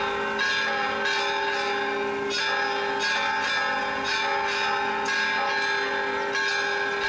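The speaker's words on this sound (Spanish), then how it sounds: "Durante 15 minutos de ambas torres de la parroquia de San Francisco de Asís provino el repique." Church bells peal from both towers of the San Francisco de Asís parish in Tepatitlán in a festive pre-Christmas ringing, with repeated overlapping strikes ringing on continuously with no voices.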